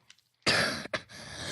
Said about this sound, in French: Oh, il a la toux.